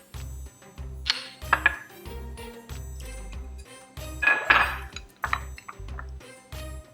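Fork clinking against a bowl while seasonings for an eggplant and potato stuffing are mixed, with coconut, sesame seed and onions going in; bright metallic taps come in two bursts over a steady low background.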